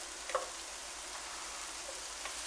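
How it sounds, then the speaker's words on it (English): Onion and chilies brown in olive oil and butter in one pot. A soft, steady sizzle with faint crackles continues throughout, quiet and unbroken by speech. "First thing we want to do is brown our onion up really well with our chilies."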